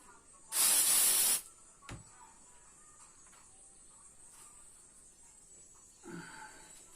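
A can of silicone spray gives one loud hissing burst of under a second onto a cloth for wiping a fishing rod's butt section and guides, followed by faint rustles and a short softer sound near the end.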